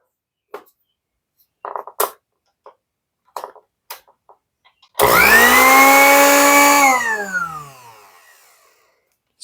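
A 1970s Waring blender, model 11-254, starts with a sudden loud whir and runs steadily for about two seconds, then winds down, after scattered clicks and taps from handling its buttons.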